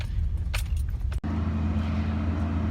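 A Toyota Supra engine idling nearby, a steady low rumble after keys jangle and a brief click as it starts, then running evenly to the end.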